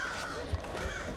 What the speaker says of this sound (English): I say as I anger all these birds.